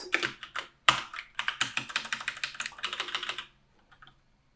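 Rapid typing on a computer keyboard: close, crisp keystrokes in quick bursts and steady runs, then stopping, with a couple of faint taps at the end.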